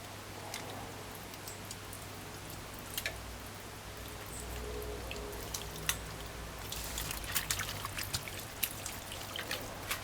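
Tap water runs steadily while turkey necks are washed in a kitchen, a soft continuous pour with scattered drips and splashes, spiking as the meat is handled under the stream; no one speaks.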